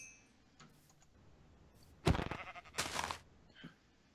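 Sheep in a survival video game bleat twice in quick succession, both moderately loud against a faint, quiet background, followed by a softer tap.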